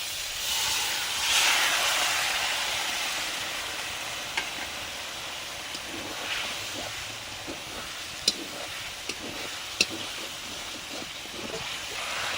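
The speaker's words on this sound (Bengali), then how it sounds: "জল দিয়ে মশলা কষে নেবো।" Turmeric spice paste with water sizzling and hissing steadily in a pan as it is stirred, a continuous frying hiss with a few sharp clicks and spatters, no voices.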